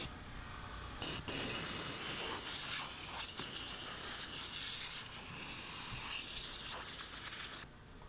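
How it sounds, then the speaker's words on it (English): A steam cleaner blows a continuous hiss of steam into a small wedge inside a dirty Jeep Wrangler interior, steady and close with brief surges and dips. "I'm blowing the steam into that small little wedge there"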